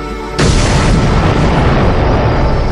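A sudden, very loud explosion sound effect standing for the Big Bang, bursting in after a brief lull and then roaring on as a dense, sustained rumble with no voices.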